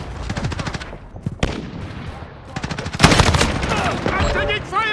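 Call of Duty: Modern Warfare gameplay, with loud, close automatic gunfire in rapid bursts and a heavy sustained volley near the end, mixed with shouted in-game voice callouts.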